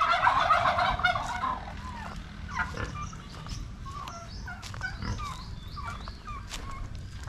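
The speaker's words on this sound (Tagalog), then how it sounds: "May pabo dito." A turkey gobbles in a loud rattling burst, followed by scattered clucks and farmyard noises nearby.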